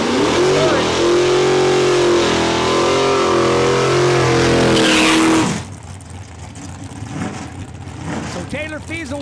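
A 2001 dragster does a burnout at a drag strip to heat its rear tires, a loud sustained engine roar that cuts off abruptly about halfway, leaving quieter crowd and track ambience with some talk.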